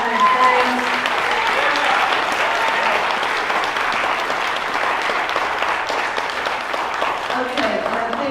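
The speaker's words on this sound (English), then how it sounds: "can y'all just give him one more round of applause?" An audience gives a sustained, loud round of applause for Pastor Broden at a gathering, dense clapping close and continuous, with some voices mixed in.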